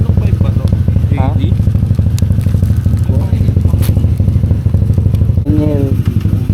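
A motorcycle with an aftermarket exhaust pipe idles and blips nearby, a loud throbbing engine drone with a few rev swells, while several people talk and call out over it.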